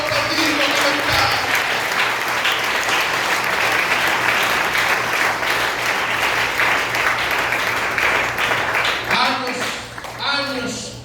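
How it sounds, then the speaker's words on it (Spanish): A church congregation applauds together in loud, sustained clapping that fills the room before it tapers off, with voices rising briefly near the end. "Aplauda a Dios y lo va a aplaudir con libertad."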